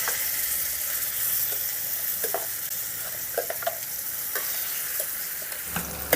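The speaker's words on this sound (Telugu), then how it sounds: "మనం ముందుగానే గ్రైండ్ చేసి పెట్టుకున్న ఈ గోంగూర పచ్చడిని తాలింపులు వేసుకుందాం" Hot tempering with curry leaves poured over ground gongura chutney, an even, moderate sizzle with intermittent stirring scrapes and a louder clatter at the close.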